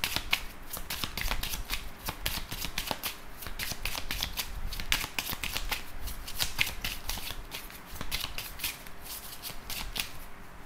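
A 32-card deck being shuffled during a card reading: continuous rapid riffling and flicking of cards, close and fairly loud, with steady crisp bursts throughout and no talking.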